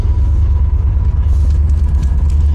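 A Volvo S60 T4R automatic car engine runs with a low, steady rumble, heard close and continuous with faint background noise and no speech.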